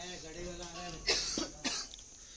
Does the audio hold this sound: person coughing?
yes